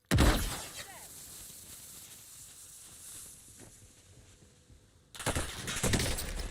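Loud close bursts of gunfire in the Warzone Pacific video game open and close the stretch, with quieter scattered shots and clatter in between.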